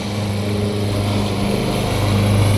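A GTM LM53E-SP-V self-propelled petrol lawn mower with electric start runs steadily close by, its engine droning loud and even with no one speaking.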